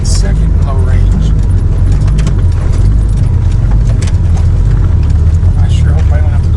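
A Jeep's engine labours loudly and continuously in second low range while climbing a mountain trail, a deep steady rumble mixed with rattles and bumps from inside the cab.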